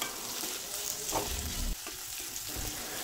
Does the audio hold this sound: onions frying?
yes